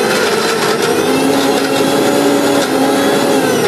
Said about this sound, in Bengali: এখন আমি ব্লেন্ডারে ব্লেন্ড করব